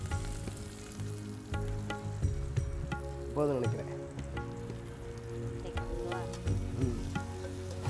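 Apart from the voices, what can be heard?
chopped shallots frying for prawn masala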